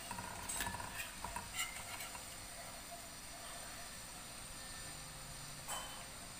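Raw banana slices turned over in hot oil in a kadhai over a medium-high flame for crisp wafers, a faint steady sizzle with a few soft clinks from the turning spoon.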